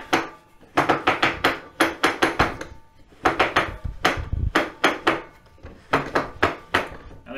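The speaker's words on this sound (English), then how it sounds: "You reactivate the winch." A winch on a siege engine is cranked by hand, giving a series of sharp, rhythmic wooden clicks and knocks in quick runs broken by brief pauses, close and fairly loud, with no talk.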